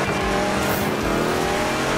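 A demolition derby video game car accelerates with a dense, continuous engine roar and hints of tire squeal, loud and unbroken, with no talking.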